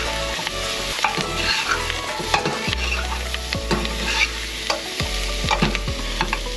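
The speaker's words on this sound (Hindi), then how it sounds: "हालेपिनो डाल के तो अच्छा से हिलाओ" Jalapeños are fried with masala for a home-made chicken curry, with steady loud sizzling up close and repeated scraping strokes of a spoon stirring the pan.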